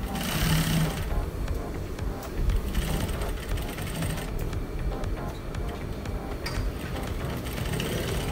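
A sewing machine stitches the end of a quarter-inch dart in a continuous close, busy mechanical whir that lasts the whole stretch with no pauses.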